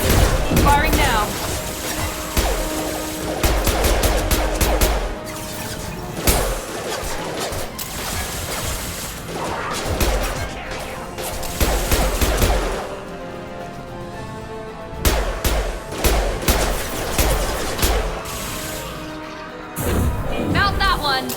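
Bursts of rapid gunfire ring out during a combat scene in the sci-fi game Mass Effect 2, with loud volleys repeating every few seconds, impact thuds and game effects between them, and voices speaking throughout.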